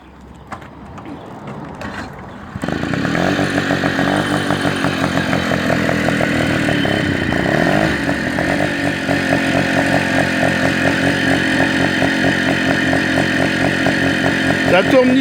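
A Motobecane 51V moped engine is started and then runs, a loud, close, rapid buzzing putter with a busy mechanical rattle that holds steady for the rest of the clip.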